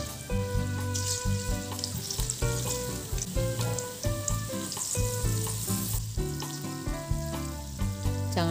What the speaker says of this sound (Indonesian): Dan kita goreng menggunakan minyak panas dan api yang kecil supaya tidak lekas gosong.